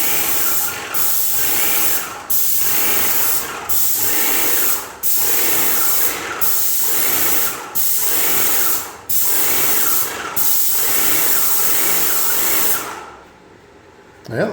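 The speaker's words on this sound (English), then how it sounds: "But I'm gonna spray it this way just to let you know." Spray paint hisses loudly and steadily in bursts of about a second each, broken by regular short pauses, with the spray cutting off near the end.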